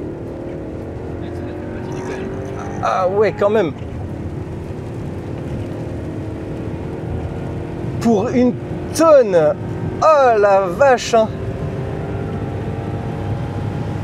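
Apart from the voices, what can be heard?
BMW 745i E65 car accelerating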